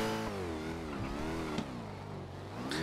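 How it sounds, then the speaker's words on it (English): A loud car engine revs in GTA V on a NoPixel roleplay server, its harmonic tone rising and falling steadily for a few seconds with brief shifts, no talk over it. "A very loud car."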